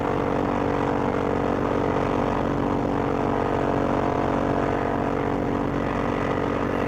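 A WWII P-40E Warhawk fighter's propeller engine drones steadily and loudly throughout, a continuous airscrew roar in the Quest 3 flight game, with no voices.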